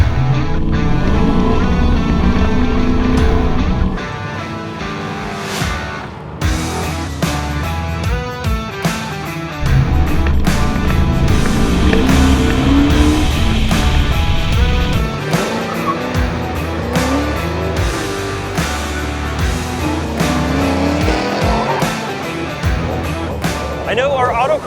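Several 1972 Camaros drive hard around a road course, engines revving loudly with bursts of tire noise, while people talk over much of it.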